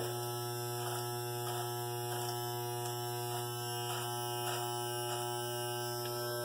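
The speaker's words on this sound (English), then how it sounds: "I like doing my mustache with a trimmer" A small electric trimmer buzzes steadily while cutting beard and mustache hair, a constant close-up drone riding over a low mains-like hum with faint rhythmic changes as strokes are made.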